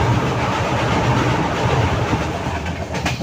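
The 22503 Vivek Express, Kanyakumari to Dibrugarh, rounds a curve near the Tamil Nadu–Kerala border, with a steady, fairly loud rolling rumble and rhythmic wheel clatter that carries on unbroken.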